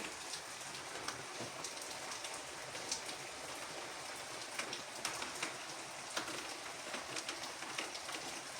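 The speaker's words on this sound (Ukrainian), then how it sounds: "Який в нас дощ іде?" Steady rain patters on a surface, a dense continuous hiss with scattered sharper drops, and no talking.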